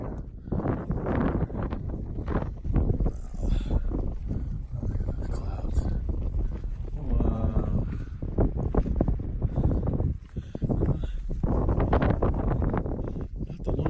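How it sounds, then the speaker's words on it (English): Steady wind gusts buffet the microphone on a chilly, cloudy mountain section of the Pacific Crest Trail, a constant rumbling roar that fills the whole stretch with only brief dips. "It's breezy up here."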